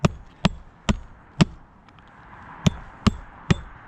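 A hammer drives a nail through roof shingles while a bath fan vent is installed on a roof: seven sharp, close blows in an uneven rhythm, with short pauses between.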